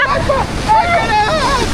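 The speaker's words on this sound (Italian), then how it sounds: "onde altissime qua nell'oceano" High Atlantic Ocean waves break at Ipanema beach in Rio de Janeiro, a loud, continuous roar of surf under gusty wind buffeting the microphone, with a voice speaking over it.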